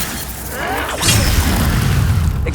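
The Incendio fire spell in Hogwarts Legacy bursts out as a short whooshing roar with a crackling flare, loud and close, holding for about a second and a half before cutting off.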